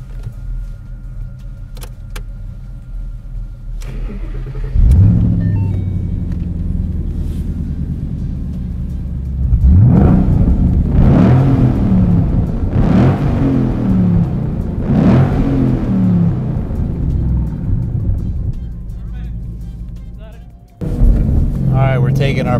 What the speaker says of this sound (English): It's got the side exhaust, it's got the rear exhaust here.